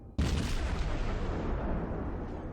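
Naval gun salvo firing high-explosive shells at an enemy ship in World of Warships while playing a Blyskawica destroyer, one sudden heavy boom that rolls into a long, fading rumble.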